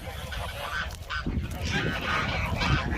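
Domestic geese on a small Turkish goose farm honk repeatedly and loudly up close, overlapping calls filling the yard with steady background noise.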